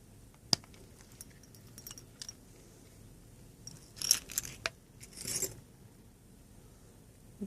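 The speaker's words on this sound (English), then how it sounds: "I need to use keys to pop this out." Keys, used to pop a part out of a Crosman P311 pistol, jingle faintly in a few short bursts, with a sharp click early on and quiet background hum in between.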